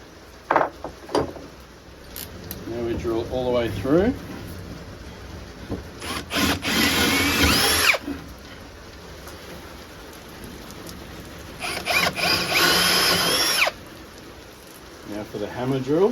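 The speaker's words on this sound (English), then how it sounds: "Now we drill all the way through." A drill grinds through wood in two loud bursts separated by quieter stretches, with a voice talking briefly near the start.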